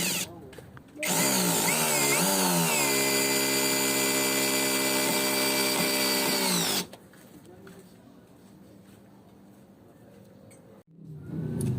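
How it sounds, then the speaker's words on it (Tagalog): A Tanzu TZ-Z-80 MT-21V brushless cordless drill runs in hammer mode and drives with a loud, steady, close whine for about six seconds. The motor pitch rises as it spins up, then quieter handling noise follows. "Tinry ko lang kung paano ba mag-drive ang naka-hammer function."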